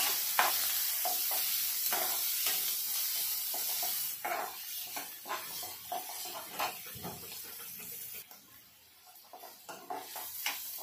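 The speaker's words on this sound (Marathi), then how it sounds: "कांदा लाल होईपर्यंत भाजायचा आहे।" Onion frying in a pan until browned, a soft hissing sizzle broken by scattered scrapes and taps of a spatula, moderately close and fading slightly toward the end, with no voices.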